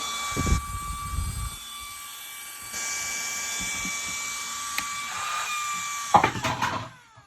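A powerful electric fan runs with a steady whirring hum and high tonal whine, its pitch shifting as it changes speed, with a few clunks and handling knocks near the start and end.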